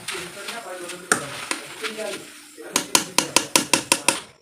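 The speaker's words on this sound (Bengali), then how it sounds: "এবার আবারও দিয়ে ভেজে নিচ্ছি এইভাবে সবগুলো চিড়েকে আমি ভেজে নিব" Flattened rice (chira) frying in hot oil in a pan, with a soft sizzle under talk, then a run of sharp, evenly spaced clinks and scrapes from stirring against the pan.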